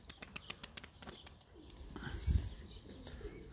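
Çakmaklı pigeons in flight training give a quick burst of sharp wing claps, then softer flapping and rustling, all faint and outdoors.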